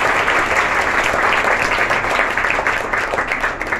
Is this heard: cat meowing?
no